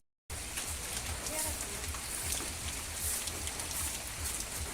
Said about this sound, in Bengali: বৃষ্টি মনে হয় আজকে সারাদিনও থামবো না